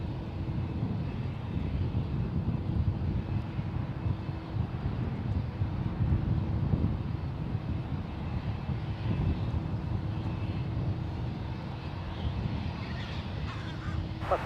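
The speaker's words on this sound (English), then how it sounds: "This is Alaska Airlines Flight 27 coming in from New York. It's a 3-year-old Airbus A321neo." An Alaska Airlines Airbus A321neo on a flight from New York comes in to land at San Francisco International Airport, its engines a steady, broad rumbling roar for the whole stretch, accompanied by wind buffeting and occasional crow caws.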